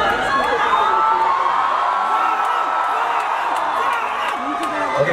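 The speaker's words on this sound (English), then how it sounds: "So big round of applause to all of you for making this festival successful." Large festival crowd at the Kolkata International Film Festival cheering and whooping, a loud continuous roar of voices and shouts throughout, with some clapping mixed in.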